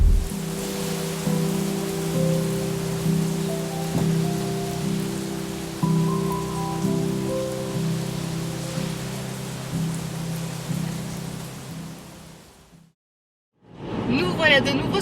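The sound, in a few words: rain falling in Iceland, Landmannalaugar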